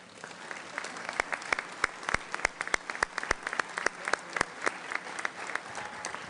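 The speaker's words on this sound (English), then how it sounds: "Please, let's give them all a round of applause." An audience applauds steadily at a Rotary Club of Denver meeting, a dense patter of many hands clapping at moderate volume throughout.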